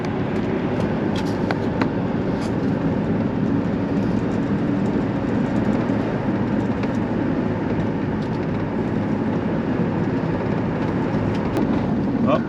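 A 1969 Mustang on the road after new brakes and steering, heard as a steady broadband rumble of engine, tires and wind from inside the car, continuous and fairly loud throughout with no clear speech.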